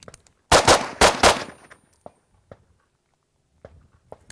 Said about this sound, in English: right side of the barricade, right foot's forward, 4 shots, 2 targets